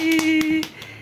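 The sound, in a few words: children clapping hands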